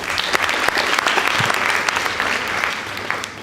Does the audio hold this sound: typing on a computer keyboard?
no